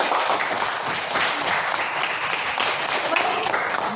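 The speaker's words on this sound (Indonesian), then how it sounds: "Iya, tepuk tangan lagi untuk Angie." Dense classroom applause for a student, Angie, loud and steady for the full few seconds, with a few voices mixed in.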